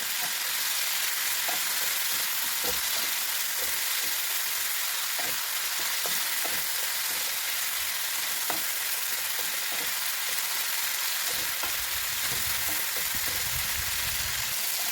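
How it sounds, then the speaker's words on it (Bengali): Chicken pieces fry in hot oil with salt and turmeric, a steady loud sizzle running throughout, broken by repeated scraping stirs and a heavier clatter near the end. "এবার এর মধ্যে আমি সামান্য নুন দিয়ে দিচ্ছি আর দিচ্ছি সামান্য হলুদ গুঁড়ো। এবার একটু ভালো করে ভেজে নেব।"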